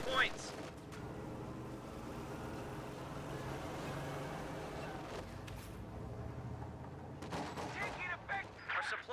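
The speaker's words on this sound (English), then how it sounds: "Taking small arms fire." Small arms fire in a war video game, bursts of gunshots and rattling fire in a continuous battle din, with heavier cracks near the end and a voice talking over it.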